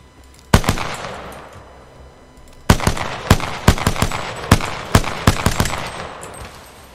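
Carbine gunshots ring out sharply: one isolated shot, a pause, then a rapid irregular string of about eight close, loud reports with echoing tails.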